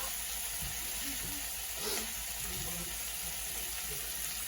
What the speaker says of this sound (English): I'm going to go ahead and add a little bit of water.